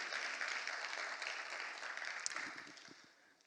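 Church congregation clapping in a burst of applause of thanks and praise during a worship service, a dense steady wash of hands that slowly fades toward the end.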